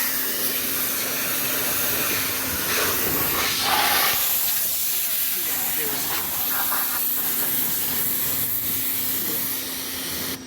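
A foam cannon sprays while a car wheel is cleaned, a steady hissing spray throughout, loud and close, with a faint hum underneath and brief shifts in intensity.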